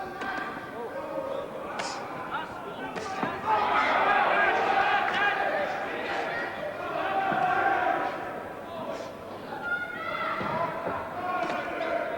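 A boxing crowd at Oldham cheers and roars through a bout between Najib Daho and Pat Doherty, swelling loudly in the middle and then settling into a steady murmur with scattered shouts.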